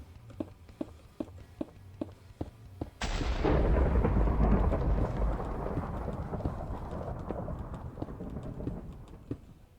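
A sudden loud thunderclap from a Minecraft storm crashes in and rolls off into a long rumble over steady rain, after a series of regular clicking ticks.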